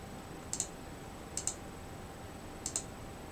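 Three pairs of crisp computer mouse clicks, spaced about a second apart, close and fairly quiet over a faint steady background hum.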